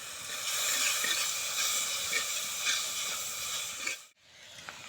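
Water is poured into a hot cooking pan holding salt and mudakathan leaves, giving a loud, close, steady sizzling hiss that stops abruptly near the end, with no voices.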